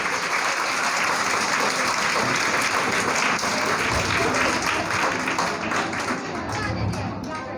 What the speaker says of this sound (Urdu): آپ سب کی بھرپور تالیوں میں محمد سعد کاشف